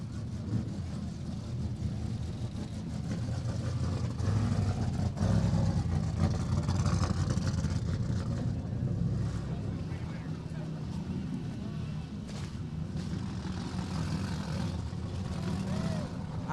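King of the Hammers off-road race car engine at a 2019 qualifying event, a steady loud low rumble running throughout, with crowd noise and a commentator talking over it.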